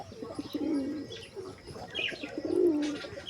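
A black pigeon coos in two soft, throaty phrases, close by, with faint chirps from other birds and light background noise between the calls.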